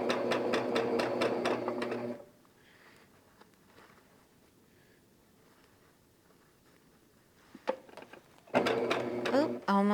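A sewing machine sews the last seam of a quilt row in two loud, rapid rattling bursts at the start and end, separated by a quiet stretch with faint handling noises.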